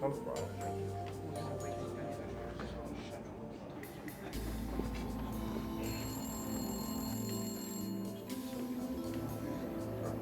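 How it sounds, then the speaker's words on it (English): A hotel telephone rings in repeated bell bursts under a tense music score in a crime documentary reenactment, mid-loud and nearby. "On cue, the phone rang."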